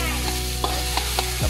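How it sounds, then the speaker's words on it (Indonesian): Close, steady sizzle of chicken frying in a pan, with a few light scraping stirs at intervals. "Kita kena goreng dulu memang sedap."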